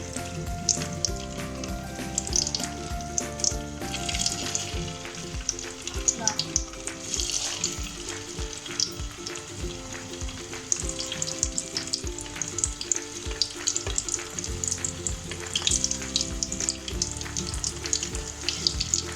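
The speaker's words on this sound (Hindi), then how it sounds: "4 मिनट तक इनको फ्राई करना है।" Chicken pieces frying in a karahi over a medium flame, a steady sizzle with spitting crackles that continues throughout, alongside a soft musical background.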